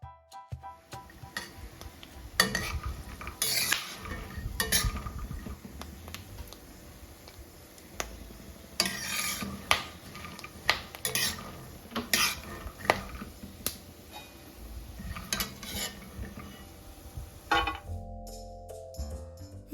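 Almonds roasting slowly over a low flame in ghee in a pan, giving irregular crackling pops and clinks of a spoon stirring against the metal, with a brief clatter at the end.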